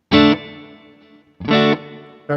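Two clean electric guitar chords strummed a second apart, each ringing out with a lingering reverb and delay tail before the next strike.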